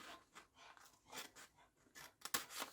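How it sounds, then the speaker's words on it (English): Scissors snip repeatedly through card while a castle cube card is being cut, a quiet series of short crisp cuts at an uneven pace with a sharper cluster of snips near the end. "put a couple of snips in here. Put a snip there, put a snip there"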